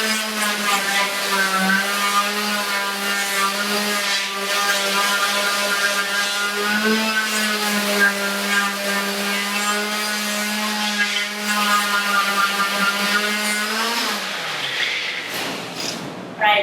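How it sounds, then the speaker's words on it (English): A palm sander whirs steadily against wooden furniture being restored, a loud, close, continuous buzzing hum that runs for about fourteen seconds before winding down and stopping. "You may not have a palm sander. It's worth getting if you're doing a big piece"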